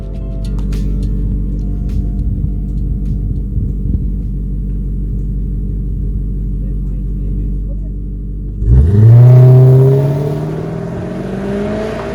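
A 2002 Audi A8 D2 with a 3.7 V8 idles with a steady low rumble, then at about nine seconds revs hard and pulls away, its engine note rising in pitch and growing louder.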